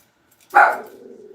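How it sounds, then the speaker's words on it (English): A dog gives one sharp, close bark that trails off into a brief fading tail, with quiet before it and no talking. "We don't need to bark."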